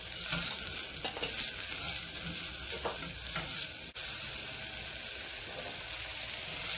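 Fresh corn kernels sautéing in a pan, a bright continuous sizzle with repeated stirring scrapes, briefly cut off before resuming, no speech.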